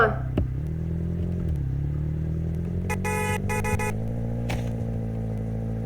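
A car drives in the Roblox Brookhaven roleplay game, its engine humming steadily and slowly rising in pitch, broken by a brief clatter and several short bursts of a horn-like tone.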